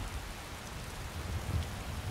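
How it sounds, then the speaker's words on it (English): Steady rain pours in the Skyrim game world, a constant, even hiss of falling water with no voices and no pauses. "Khajiit is just blinded by the rain, apparently."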